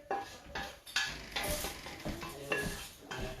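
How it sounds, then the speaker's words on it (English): Onions and garlic fry in a little rendered sausage fat for tortellini soup, giving a steady sizzle broken by repeated scraping bursts of stirring, close and fairly loud, with no talk. "cook my onions and my garlic in the little bit of fat that has rendered off from the sausage"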